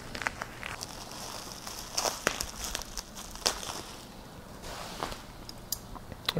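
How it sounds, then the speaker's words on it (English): Crinkly plastic wrap rustles and crackles as scissors snip through it, with irregular cuts and crumpling close up and no talking. "You'll take a pair of scissors, just cut this through."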